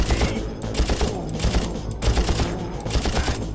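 Sustained machine gun bursts in the shooter game Far Cry, loud rhythmic volleys of rapid shots in repeated clusters, with short gaps between bursts.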